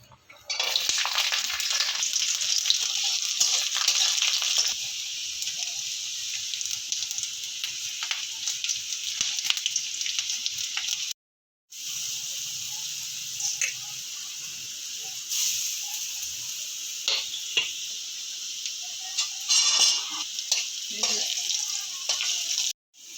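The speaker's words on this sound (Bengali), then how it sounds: "এবার আমরা এই সব উপকরণ ভেজে নিচ্ছি তেলেতে।" Ingredients frying in hot mustard oil, a loud continuous sizzle with scattered stirring scrapes and a brief silent gap partway through.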